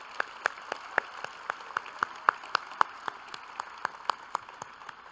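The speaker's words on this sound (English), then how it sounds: "give them a hand of applause on that" Sparse, evenly spaced handclaps ring out at a gala honoring CAP members, a thin scattering of individual claps rather than full applause, fairly distant in a reverberant room.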